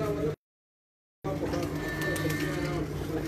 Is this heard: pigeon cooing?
yes